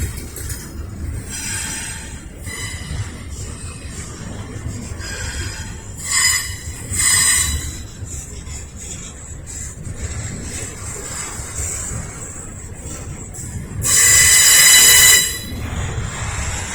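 A Norfolk Southern intermodal train rolls past at a rail yard connector, its low rumble steady throughout while wheel squeals rise in several bursts, loudest and shrillest near the end.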